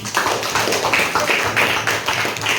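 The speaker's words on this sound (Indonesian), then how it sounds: "Oke, kasih tepuk tangan" A classroom of students claps their hands together in a burst of loud, dense, uneven clapping that rises and falls in waves over a few seconds, with no talking over it.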